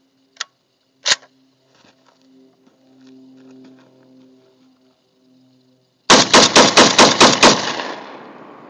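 A Saiga 12 gauge semi-automatic shotgun fed from a 20-round magazine fires a rapid string of about eight loud close blasts after a few quiet handling clicks.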